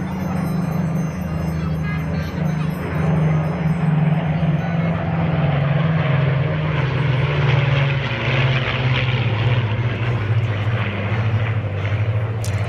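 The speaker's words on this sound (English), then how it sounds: "Here comes the fighter flight once again from the left." Several P-40 Warhawk WWII fighter planes roar past at an airshow, propeller engines loud and steady throughout with a slowly shifting drone as the flight crosses from left to right.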